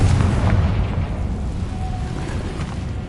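A Confringo spell explosion in Hogwarts Legacy bursts with a loud, deep boom and then trails into a fading rumble.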